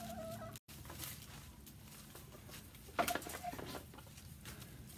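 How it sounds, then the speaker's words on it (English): Soft fowl clucking and scattered chicken calls in a coop, with a brief dropout near the start and a louder burst of squawking midway. "This is my chicken coop."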